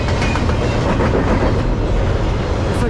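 A loud Norfolk Southern freight train, led by a rebuilt Dash 9-44CW locomotive, rolls past close by in South Plainfield, New Jersey, with a steady rumble and rhythmic clickety-clack of wheels over the rails.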